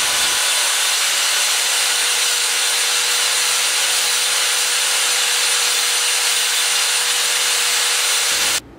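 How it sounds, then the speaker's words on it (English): A flap wheel on a grinder strips paint and resurfaces the metal of a custom Yamaha Radian motorcycle, giving a steady, loud, continuous abrasive whirr that runs unbroken for about eight and a half seconds and then cuts off abruptly. "take a flap wheel, remove the paint and resurface at the same time"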